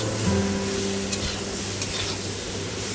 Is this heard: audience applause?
no